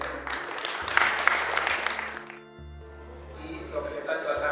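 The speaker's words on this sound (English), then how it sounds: "really a big applause for them" An audience applauds at a Pan African campaign launch event, a dense wash of clapping that swells, briefly dips, then resumes, with a voice over a sound system underneath.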